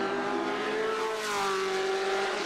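A Ford GT40 race car engine from the film Le Mans 66 roars in a sustained, loud, close drone whose pitch sags and shifts slightly, alone without talk.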